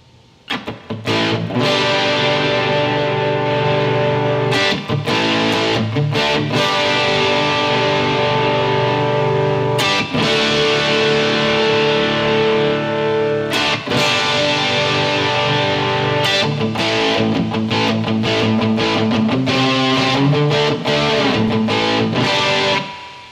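Electric guitar run through a distortion effect on an iRig iPhone/iPad rig, playing sustained chords and riffs at a steady loud level with brief pauses between phrases, with no voices.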